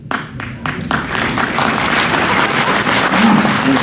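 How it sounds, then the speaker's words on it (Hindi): A Sufi conference audience at SKICC in Srinagar applauds: a dense, loud wash of clapping that starts with a few scattered bursts, then swells and holds steady throughout. "जरा ऐसी तालियां लगाओ जरा"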